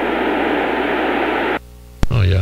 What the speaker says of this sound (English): the white noise is pretty loud here